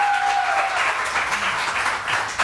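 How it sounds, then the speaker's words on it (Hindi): Studio audience applause welcoming a guest on a Pakistani morning TV show, a steady burst of clapping lasting a couple of seconds with a brief electronic tone at the start. "तो ईसा भाई को हम जोरदार तालियों से वेलकम करेंगे।"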